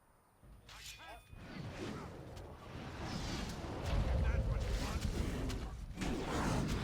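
An attack being fired in the fantasy video game Dragon Age Origins: a swishing whoosh opens into loud, rumbling, explosive blasts that swell and stay dense to the end.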